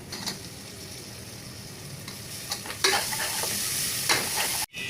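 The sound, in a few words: chopped tomato and onion frying with turmeric and curry leaves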